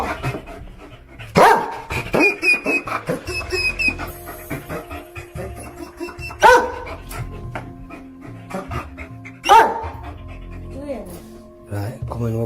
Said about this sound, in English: We should have listened to the dog and not gone downstairs.